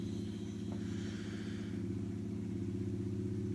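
A car engine droning nearby outdoors, a steady mid-pitched hum with a constant tonal rumble that holds without fading throughout, no voices over it.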